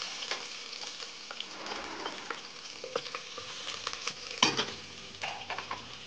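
Onion sautéing in butter in a pan gives a soft, steady sizzle, broken by intermittent scraping and stirring taps from a utensil, faint and close.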